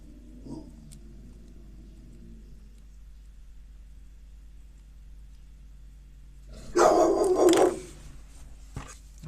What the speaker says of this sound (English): My dog's being silly again.